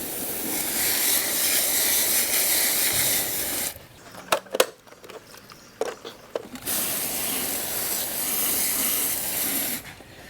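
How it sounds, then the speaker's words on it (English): A loud, steady hiss of water spraying from a hose onto a robot pool vacuum, cut off midway by a few seconds of clicks and handling, then resuming. "I think it's nice to just spray some of the chlorine off."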